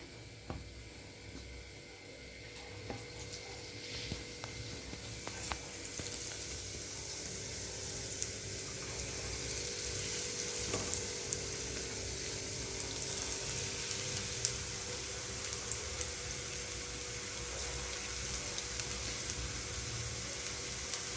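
Small-cut snake gourd pieces frying in hot oil for bajji give a steady, close sizzle that holds for the whole stretch, with no talking.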